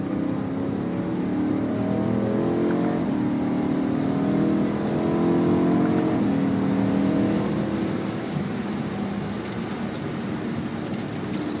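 A car accelerates along the wet Nürburgring, its engine note rising steadily in pitch as power is fed on, heard from inside with a constant wash of tyre and road noise before easing slightly near the end.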